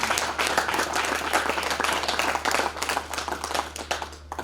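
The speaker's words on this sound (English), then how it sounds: "please could we give all our presenters from the 2 days a round of applause" Audience at a real estate investment summit applauds its presenters from the two-day event, a steady dense patter of many hands clapping throughout, fairly close, without talk.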